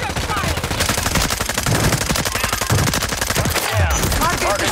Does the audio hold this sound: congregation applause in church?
no